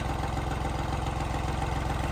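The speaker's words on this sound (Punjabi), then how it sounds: "ਲੋ ਵੀ ਮਿੱਤਰੋ ਇੱਧਰ ਆਪਣੇ ਆ ਗਿਆ ਟਰੈਕਟਰ ਸਪਰੇ ਕਰਨ" A Farmtrac 60 tractor idles in a farm field, ready for spraying, its engine putting out a steady, close, rhythmic low chug that holds at an even pace throughout.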